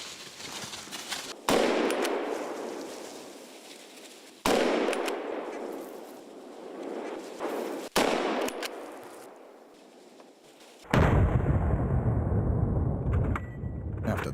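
Gunshots ring out at a driven wild boar hunt in the woods, several loud sharp reports spaced a few seconds apart, each trailing off in echo, with a final heavier blast near the end.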